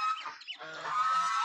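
Geese on a duck farm give a quick burst of nasal honks, a few overlapping calls close by and clear, with no talking.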